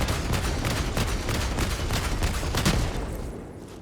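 Rapid, sustained fire from an armor-piercing support weapon in Helldivers 2, a dense run of loud, close shots in quick succession that tails off into a fading rumble near the end.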